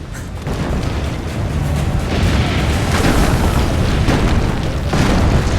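Cannon fire in the Assassin's Creed Brotherhood video game: a run of loud, heavy booms and blasts rolling over one another in a dense battle din, with no break for several seconds.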